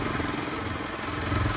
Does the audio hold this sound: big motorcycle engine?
yes